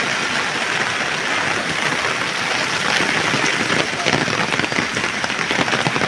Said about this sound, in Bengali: অনেক সুন্দর বৃষ্টি হচ্ছে।